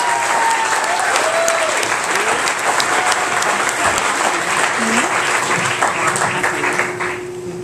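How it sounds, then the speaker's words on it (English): Dense, steady applause from an audience at an evening talk, welcoming speaker Grace Tang, sustained for several seconds with faint whoops and a voice briefly rising over it before it tapers at the end. "Please, a hand of applause."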